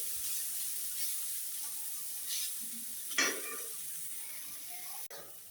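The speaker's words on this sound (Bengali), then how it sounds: "তো শাক দেওয়ার পর আমি ভালোভাবে ভেজে নিয়েছি" Spinach (dima shak) frying in a pan with small potatoes, a steady soft sizzle and hiss running throughout, with a few louder stirring scrapes and a brief clatter near the end.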